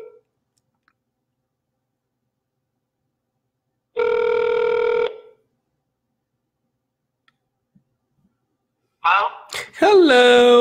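Telephone ringback tone on an outgoing call: a single steady electronic ring lasting about a second, heard clearly over quiet line silence, followed by a voice answering.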